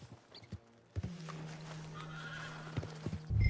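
A horse in Red Dead Redemption 2 lets out a long, clear whinny over the steady clip-clop of hooves, ending in a louder rush of movement.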